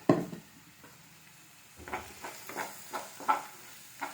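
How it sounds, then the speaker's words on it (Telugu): Curry leaf paste being stirred in oil in a pan for curry leaf rice: a few soft scraping strokes and faint sizzling, quiet and close, with no talk. "చూడండి ఇలా మొత్తం కలిపెట్టుకోవాలి"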